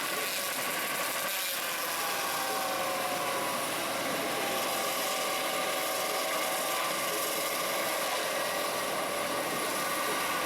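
A feller buncher fells and bundles trees in a forestry operation. A steady, loud mechanical drone runs unbroken, with a harsh rasping, grinding texture and a brief dip near the start.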